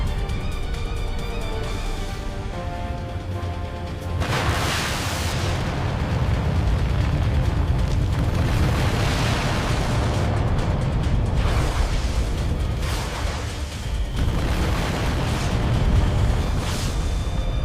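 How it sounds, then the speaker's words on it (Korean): Missile blasts tearing into a wooden warship: a sustained, loud roar of heavy booms and rumbling debris, with several fresh bursts flaring up in sequence over a dense low-end rumble. "미사일이 왜군 기함의 정중앙을 관통하며 폭발했다."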